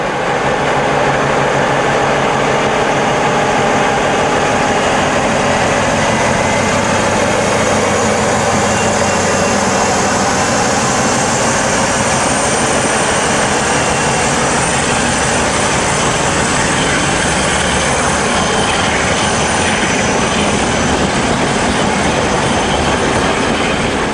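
British diesel locomotive 47550 thrashes loudly through Crewe on weekend drag duty, a continuous heavy engine roar with rail noise and a rising whine, close and sustained throughout.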